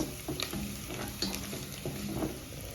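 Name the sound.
ginger cooking on low heat in a pot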